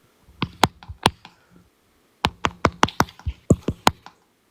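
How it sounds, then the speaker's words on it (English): Sharp tapping and typing on a phone picked up by an open microphone, two bursts of quick irregular taps and knocks separated by a short pause, close and dry with no talk. "what you beating on your phone for, Prophet?"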